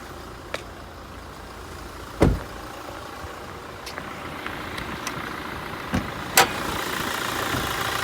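A Toyota Hilux SR5 with a 2.8 litre four-cylinder engine idles steadily with a low, even hum, broken by a few sharp clicks and knocks from nearby handling.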